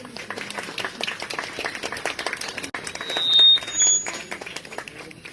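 An audience at a Kayseri associations gathering applauds steadily with continuous dense clapping, and a brief electronic tone sounds partway through.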